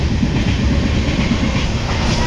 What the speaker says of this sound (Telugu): ట్రైన్ వస్తుందని చెవులు మూసుకుంటున్నావా?